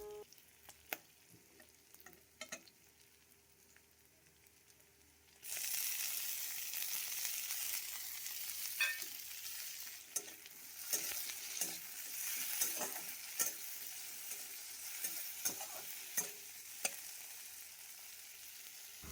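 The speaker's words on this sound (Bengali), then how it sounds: "টমেটোটা কুচি করে দিয়ে সেটাকেও পেঁয়াজের সাথে খুব ভালো মতো ভেজে নিতে হবে" Chopped tomato frying with onions in a pan, a steady sizzle that jumps louder about five seconds in and keeps going, with small stirring clicks and scrapes scattered through it.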